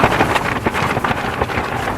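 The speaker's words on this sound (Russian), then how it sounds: "Вот это ветер, ребят, вот это ветер, да." Strong, gusty wind on a frozen lake during winter ice fishing roars and buffets the microphone in a continuous, rumbling rush with no voices.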